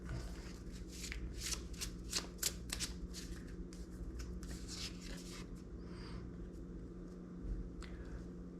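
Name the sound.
tarot cards being shuffled and drawn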